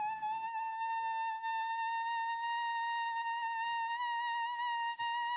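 A mosquito whines with a thin, steady, high-pitched buzz that holds an unbroken tone for several seconds, close and clear, with no talking.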